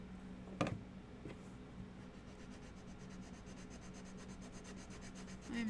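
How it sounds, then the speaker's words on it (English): Sandpaper rubs red paint off the bottom of a wooden window insert, a steady, soft scratchy scraping after a single sharp knock near the start, close and fairly quiet, no talking. "I am going to sand that red off the bottom"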